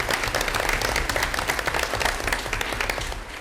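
An audience at a school board of education meeting applauds third grade students, a dense, even wash of clapping from many hands, sustained and fairly close throughout.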